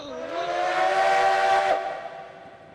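A steam locomotive whistle sounds in the railroad video game Railroads Online, one loud sustained tonal blast that swells and then fades, with no talking over it.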